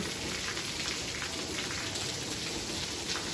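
Heavy rain pours down steadily on a construction site, a dense, loud hiss of drops drumming on surfaces with no letup.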